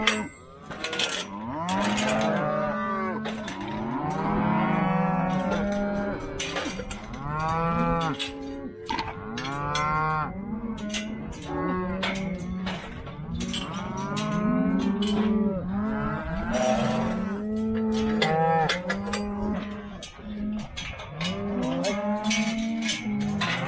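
Cattle low and moo again and again, loud and close, as cows and calves are herded into a pen on a South Dakota ranch, with overlapping calls and no talk.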